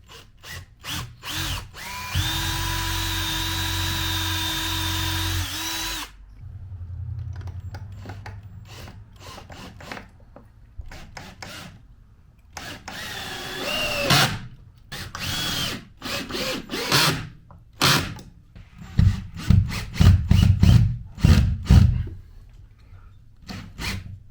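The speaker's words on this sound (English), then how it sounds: "Pre-drilling these holes." A power drill whirs in short and longer bursts, stopping and starting repeatedly as it pre-drills holes for a sliding glass door in a box van truck conversion, close and loud with scraping between runs.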